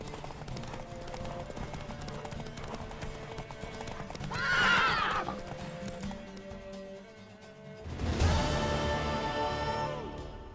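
Horse hooves clip-clopping with two loud whinnies in The Witcher 3 video game, a steady rhythmic trot under a neigh near the middle and a louder, closer one toward the end.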